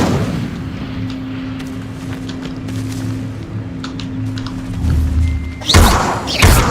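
Incendio fire spells are cast in Hogwarts Legacy, with a low rumbling drone building under the scene and then a loud, sudden fiery burst near the end, followed by a second blast.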